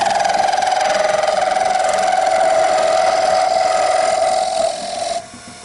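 Wood lathe shaping a chess knight piece, a steady loud whine with a bright ringing tone holding for about five seconds before dropping off as the cut stops near the end.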